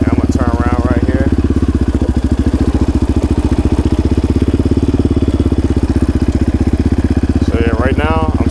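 A quad bike engine chugs in a low, steady, rapid putter while being ridden, loud and close throughout, with brief voice-like tonal bursts near the start and end.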